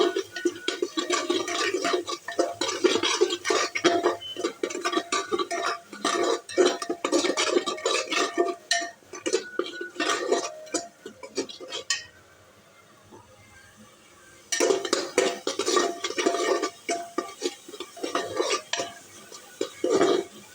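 Salt is stirred into masala in a pan with a spoon, giving steady close scraping and clinking strokes for many seconds. The stirring stops briefly near the end and then resumes.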